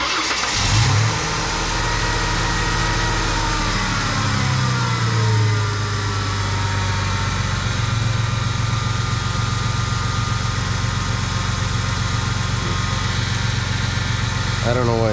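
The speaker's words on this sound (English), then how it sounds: "That power steering pump is whining." A Ford Mustang 3.8L engine starts and then idles unevenly, a rising whine from the power steering pump running over the engine, with voices talking throughout.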